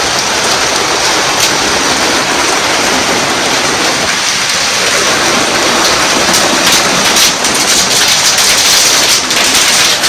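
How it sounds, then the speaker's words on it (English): Hailstorm pelting the polycarbonate roof of a Palram Canopia Hybrid greenhouse, heard from inside as a loud, dense and unbroken rattling roar that holds steady throughout, with no voices. "The hail is smacking up against."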